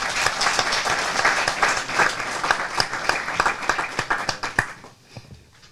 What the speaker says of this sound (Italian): Salutiamolo con un applauso